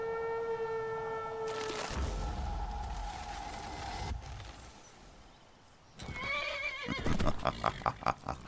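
A horse in the video game Skyrim whinnies loudly, a long neigh followed after a pause by a second stuttering whinny, over a faint ambient game background.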